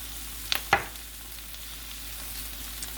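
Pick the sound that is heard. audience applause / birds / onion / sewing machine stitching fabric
onion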